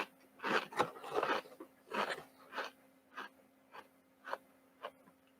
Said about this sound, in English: you break a piece off and you get those crunchy bits of brownie